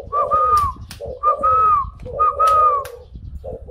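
A Thai black variety spotted dove, a pet kept for breeding at home, coos close and loud in a repeated rhythmic phrase, each call a throaty note followed by a longer rolling coo, three cycles in a row.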